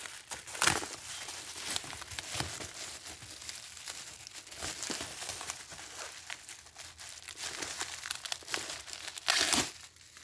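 Packing tape and plastic wrapping crinkle and tear during an unboxing of anime figures and a PlayStation 3 game, with rustling handling throughout and sharper ripping bursts near the start and end, no voices.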